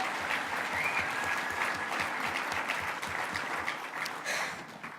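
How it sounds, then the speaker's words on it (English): A crowd at a student education march rally breaks into applause, dense continuous clapping filling the whole stretch, fading slightly at the end. "let's do another quick round of applause"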